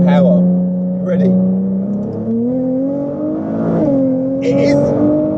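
A 660 bhp R35 Nissan GTR accelerating hard from inside the cabin, engine note rising through the gears with a brief dip at each shift, loud and close, with a voice talking over it.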